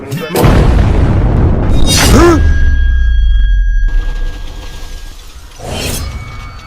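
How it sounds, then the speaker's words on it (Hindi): A loud explosion blast at an airport, with a sharp shattering burst and a long deep rumble trailing off, followed by another boom a few seconds later. "सरदार हमने एयरपोर्ट पे ब्लास्ट कर दिया है"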